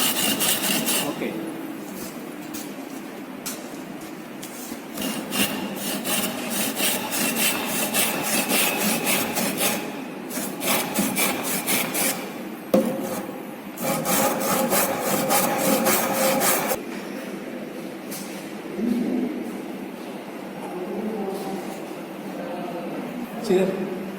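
A hand saw rasps back and forth through wood, cutting a cross halving joint, in steady close strokes that pause briefly now and then, with someone talking over parts of the cutting.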